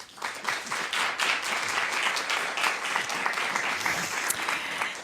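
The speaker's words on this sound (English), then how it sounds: "Please give them a round of applause." An audience applauds panelists at a talk on language learning in humans and machines, a quick swell into steady, bright clapping that holds evenly for several seconds.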